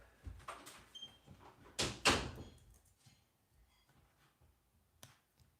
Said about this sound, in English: hey Maddie, can you just shut that door for a minute just so I can hear?